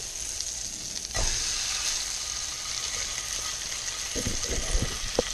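A trout fillet frying in a pan over medium heat: a steady close sizzle with a few brief clinks and scrapes near the end, with no talk.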